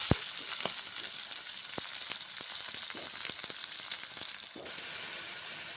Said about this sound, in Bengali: মুগের ডাল দেওয়ার পরে ভেজে নিচ্ছি পনির, মুগের ডাল আর মশলা।